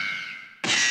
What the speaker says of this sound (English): That sounds like a bullet ricocheting